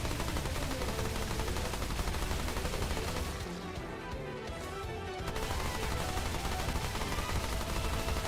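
Gun fire in the video game Beyond Hell, a dense, continuous rapid-fire barrage that stays loud throughout, with a brief dip in the middle before resuming.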